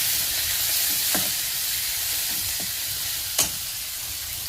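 Coriander sizzles in hot oil for a dal tempering, a steady frying hiss broken by a few sharp crackles and stirring scrapes, close and continuous with no talking.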